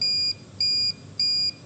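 An industrial control emergency system buzzer sounds three evenly spaced, loud electronic beeps, each about a third of a second long, with short gaps between them and no voices.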